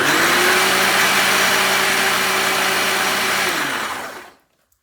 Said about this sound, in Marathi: आता आपल्याला हे सगळं मिक्सरला फिरवून घ्यायचंय।